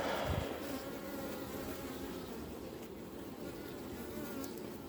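Honeybees buzz in a steady, dense drone close by as a beehive is opened and its frames inspected, with a brief low knock at the start and no speech.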